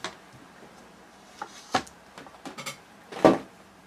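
The hinged door of a craft stamping platform is swung and reversed, giving scattered light clicks and knocks with a sharper clack near the end, close by and with no speech.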